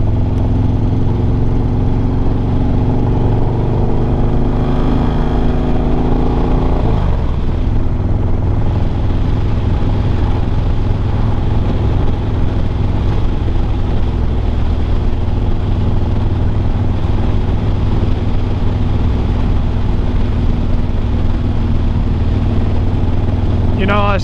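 A 2016 Harley-Davidson Low Rider being ridden home with a problem, its engine a steady loud low rumble throughout with a gear change partway, wind noise over it and a rider talking now and then.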